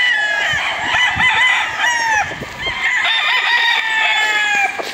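Roosters and battle stags among breeding fowl crow loudly and close by, several overlapping calls, with hens clucking and faint voices in the background.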